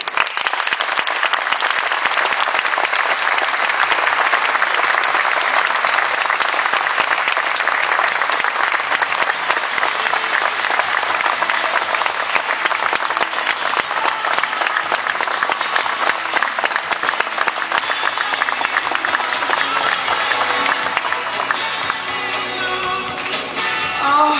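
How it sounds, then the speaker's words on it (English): At the Motorsports Hall of Fame of America, a large audience gives loud, sustained applause welcoming a speaker, a dense, even roar of clapping that continues for over twenty seconds and thins slightly near the end. "Please welcome with your warm applause, Rich's mom, Eleanor Vogler."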